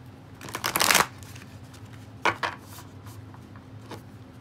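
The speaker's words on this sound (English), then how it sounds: "A little shuffle this way." A deck of tarot cards being shuffled by hand, a dense riffling burst near the start followed by two shorter, softer shuffles, close and clear with no talking.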